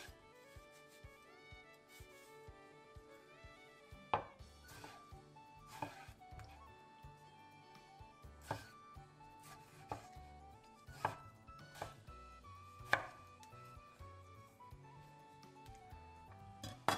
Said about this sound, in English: Take some fresh tomatoes and cut them into cubes.